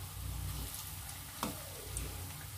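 Poornam boorelu fry in hot oil on a stove, making a soft, steady sizzle with one brief tap partway through.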